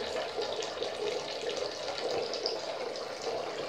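Water drains and swirls steadily in a sink, a continuous close gurgling rush with no pauses from start to finish.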